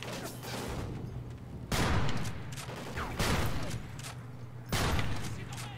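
Gunfire in Call of Duty Ghosts, a busy firefight with several sharp, heavy shot bursts standing out over a steady low background hum and scattered distant shots.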